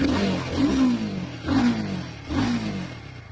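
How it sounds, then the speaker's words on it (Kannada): A motorcycle exhaust rises and falls in three repeated revving swells, close and moderately loud, with no voices. "ಸೊ ಇದರಲ್ಲಿ ನೀವು ಎಕ್ಸಾಸ್ಟ್ ಸೌಂಡ್ ಕೇಳ್ಬೋದು."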